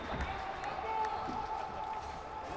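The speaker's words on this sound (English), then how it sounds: "And the crowd going crazy. Everybody's on their feet. Everybody's clapping." An arena crowd at The Qage MMA event roars steadily after the fight, with cheering and clapping blending into a continuous wash of noise that fills the room.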